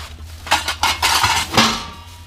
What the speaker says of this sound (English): sorry about the noise, all the meat trays and the better stuff